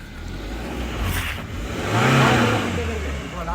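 A Suzuki Jimny on worn tyres drives out of a deep ditch where it had been stuck, its mid-pitched engine revving up and swelling to a peak before easing back, with a voice talking over the engine.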